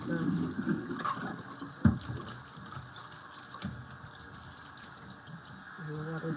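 Food being rinsed under a running kitchen tap, the water giving a moderate, continuous splashing hiss with a few clunks and knocks, under a voice that talks intermittently.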